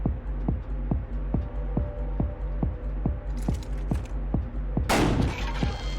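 A single loud shotgun blast from the video game Buckshot Roulette cracks out near the end, after a steady pulsing game-music beat.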